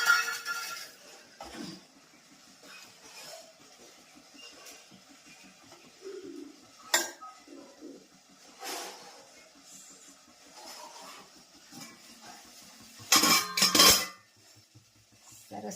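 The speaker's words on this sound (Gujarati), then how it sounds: "સરસ મજાની ડીશ મુકાઈ ગઈ છે" Dishes and cutlery clink and clatter as a plate of corn khaman is set down at a gathering, with a few scattered soft knocks and one louder burst of rattling near the end.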